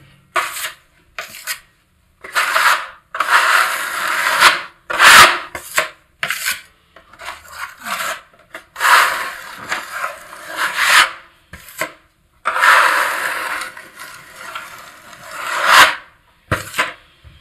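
A 45 plastering blade spreading and tightening filler over a patched brick partition wall, sounding as repeated loud rasping scrapes in bursts of about a second, separated by short pauses.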